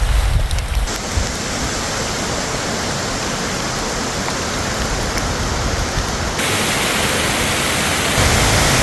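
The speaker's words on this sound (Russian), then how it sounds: "но и дождь пошел намного сильнее" Heavy rain pours down on a waterfall trail in Madeira in a dense, steady roar of broadband noise, loud and continuous throughout, with no voices.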